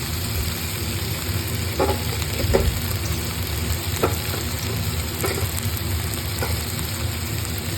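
Tomatoes frying with onions in a pan for a tomato curry, giving a steady close sizzle throughout with a few soft stirring clinks scattered across it, and no talk.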